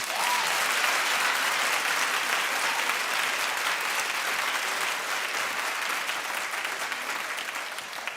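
A television talk show studio audience claps and cheers in a sustained, dense burst of applause that stays fairly even, then tapers slightly toward the end.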